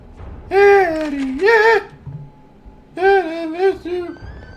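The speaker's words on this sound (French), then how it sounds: "C'était les miaulements de chat." Two bursts of drawn-out, pitch-bending cat meows from a horror video game sound clearly, separated by a quiet pause, over faint background noise.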